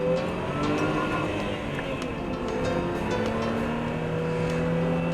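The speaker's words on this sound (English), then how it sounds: "The supercharged engine develops over 300 brake horse, and it's there all the way through." A supercharged car engine of over 300 brake horsepower pulls steadily under acceleration, its close, continuous drone rising through the gears with no talk over it.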